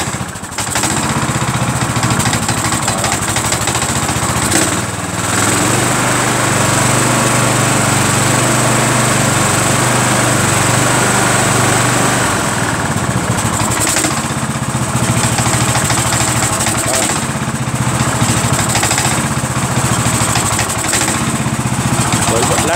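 A riding lawn mower engine runs steadily after a restart on a cold engine, a loud, continuous close-up drone with slight wavering in pitch and no talk over it.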